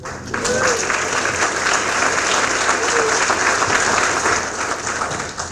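An audience applauds a National Teacher of the Year at an evening awards ceremony, steady dense clapping filling the room for several seconds before easing slightly at the end.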